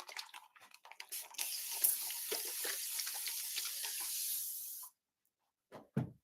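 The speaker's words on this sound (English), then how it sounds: "I will spray some water." Water sprays in a steady hissing stream from a spray bottle or nozzle during a home spa facial treatment, fairly close, stopping abruptly before a brief faint rustle.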